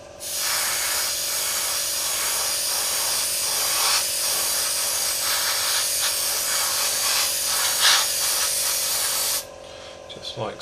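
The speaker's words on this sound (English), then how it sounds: "Straightforward spray like that." Spray paint hisses steadily onto a Tamiya 1/32 Spitfire model, a close, even airy hiss with slight pulses that runs for about nine seconds, then cuts off, leaving quiet rustling.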